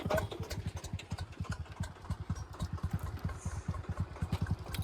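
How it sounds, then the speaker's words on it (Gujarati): A diesel tractor engine chugs in a fast, even low-pitched beat, fairly faint and steady as it comes closer, with no voices. "પેલું ટ્રેક્ટર આવે"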